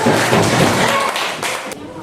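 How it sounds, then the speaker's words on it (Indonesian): A classroom of schoolchildren claps for one of the groups in an Indonesian lesson, producing a dense, continuous burst of applause that fills the space, with voices mixed in. "Bagus, tepuk tangan untuk kelompok 3."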